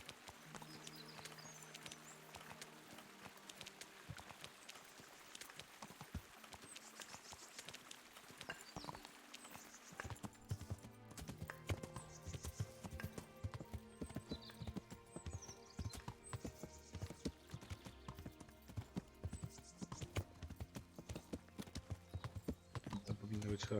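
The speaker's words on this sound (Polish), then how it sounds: "jaki ten koń jest wolny" Rapid, rhythmic clip-clop of horse hooves on a hard surface in the video game Kingdom Come, continuous and fairly faint, with a voice talking over it.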